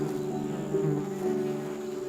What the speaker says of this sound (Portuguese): O Brasil possui cerca de 300 espécies de abelhas nativas sem ferrão. Entre elas está a mandaçaia.